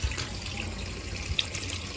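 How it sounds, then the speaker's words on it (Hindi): Water from a glass is poured into a cooking pot for chicken pulao, making a soft, steady trickle at low level with a faint clink partway through. "तो मैं इसमें भरकर 2 गिलास इतना पानी डालूंगी।"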